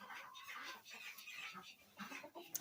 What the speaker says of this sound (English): He's our lead rooster.